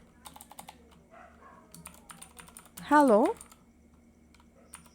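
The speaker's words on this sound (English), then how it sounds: "now here I'm simply typing" Quick, irregular clicks of typing on a computer keyboard while writing a PHP file in a text editor on Windows, close and crisp, with a brief spoken word in the middle.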